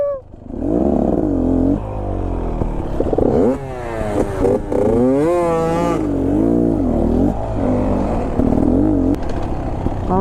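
A 2022 Beta XTrainer 300 two-stroke dirt bike ridden on a trail, its engine revving up and down in rising and falling bursts, loud and close, passing by.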